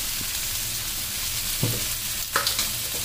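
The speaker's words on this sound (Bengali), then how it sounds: "পেঁয়াজটা একটু ভাজা ভাজা হয়ে গেলে এবারে টমেটোটা দিয়ে দিলাম" Tomatoes tipped onto fried onions in a hot pan, giving a loud continuous sizzle with a few spoon scrapes and knocks as the mixture is stirred.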